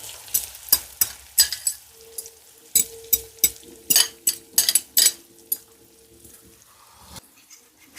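Eggs cooking in a pan as they are stirred like a French omelet, with a soft sizzle under a quick series of sharp utensil scrapes and taps against the pan, irregular and close.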